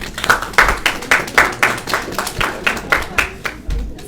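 Audience at a union general membership meeting clapping in a steady, fairly slow rhythm of roughly a dozen distinct claps, sounding like a small group or one pair of hands close by, with faint room murmur beneath.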